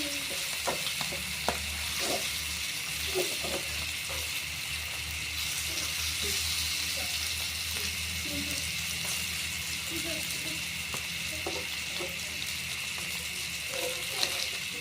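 Rohu fish pieces frying in a pan while being stirred, a constant soft sizzle broken by repeated spatula scrapes and taps, fairly quiet and close.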